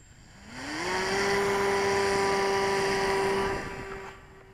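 A model flying machine built after a Da Vinci design flies overhead with its engine throttled back, a steady propeller buzz that rises in pitch, holds level for a few seconds, then fades off.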